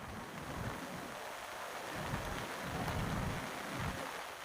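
Heavy monsoon rain in Palghar, Maharashtra roars as a steady, dense wash of noise with low rumbling swells, continuous and without voices.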